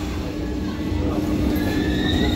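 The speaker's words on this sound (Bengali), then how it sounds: "10 মিনিট আগে কিন্তু ট্রেন ঢুকে গেল," The Puri–Howrah Vande Bharat Express pulls into a platform at Howrah, giving a steady loud rumble of rolling wheels with faint rising squeals. No one speaks.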